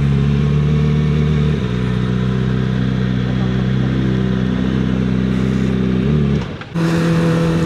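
A Kawasaki Ninja ZX25R motorcycle engine hums steadily while riding, a loud close drone holding pitch, dipping briefly near the end and then returning, with wind rush around it.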